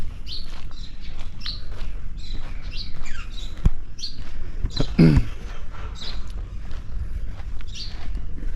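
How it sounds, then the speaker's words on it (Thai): Birds chirp and tweet repeatedly at a Buddhist temple in Ubon Ratchathani, bright short calls scattered throughout over a steady outdoor background, with one louder squawk partway through. "เสียงนกเสียงหนู"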